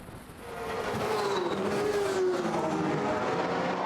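A Honda 600-engined F1 racing sidecar screams past at Brands Hatch, its high engine note rising and then sliding down in pitch as it swells to a loud, sustained roar.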